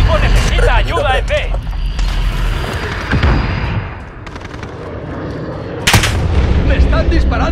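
Gunfire and explosions in a Call of Duty: Modern Warfare online match, loud steady barrage with sharp cracks and booms, while Spanish voice lines talk over the action.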